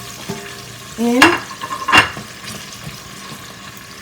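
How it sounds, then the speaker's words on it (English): Onions and garlic hiss and sizzle in a hot pan, with two sharp bursts as ingredients hit the oil and a brief spoken word. "I'm going to toss in the onions and the garlic. I can hear it sizzling."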